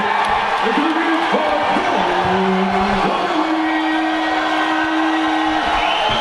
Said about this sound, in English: The crowd erupts as Donnelly gets introduced